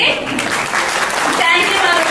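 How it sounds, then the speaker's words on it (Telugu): An audience at a business gathering claps, dense steady applause continuing throughout the short stretch, with voices mixed in. "అందరికి బిగ్ క్లాప్స్ అండి"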